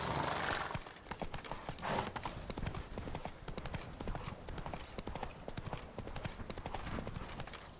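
Horse hooves clip-clopping at a steady galloping rhythm in The Witcher 3 video game, loud and close throughout, with brief whinny-like sounds and no talk.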